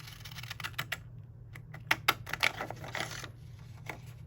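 Decorative edge craft scissors snipping along a paper edge with a crisscross pattern, a quick series of crisp close cuts clustered in uneven bursts over a low steady hum.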